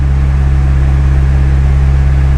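A turbocharged drive-by-wire K24 engine in a Honda Civic holds steady throttle on a dyno, making a loud, constant droning hum with an even, unchanging pitch and no talk over it.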